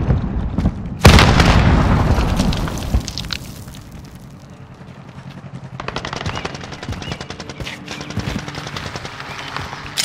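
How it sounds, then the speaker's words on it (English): A grenade explosion in Call of Duty Modern Warfare: one loud sudden blast followed by a decaying rumble, then rapid machine-gun fire from the match continues in the background. "Grenade out!"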